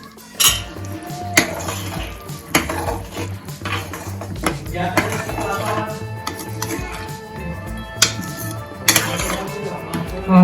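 A thick Kathiyawadi drumstick kadhi gets stirred in a pot, a spoon scraping and clinking against the metal in an uneven rhythm, close and clear with no talk over it.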